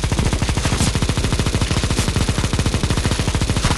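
Rapid, continuous automatic gunfire from CS:GO's zombie escape mod, a loud, dense, unbroken rattle of shots fired at zombies, with no talk.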